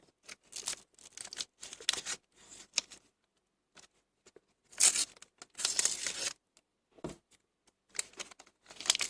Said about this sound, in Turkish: Hemen ikinci paketimizi açalım